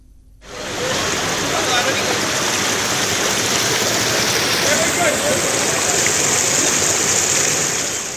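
Water gushes from a burst 50-year-old drinking water pipe near Thammanam in Kochi, a loud, steady roar that starts abruptly and continues unbroken.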